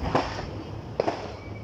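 Fireworks bursting outdoors: two separate pops, a sharper one near the start and a pair of close cracks about a second later, over steady low background noise.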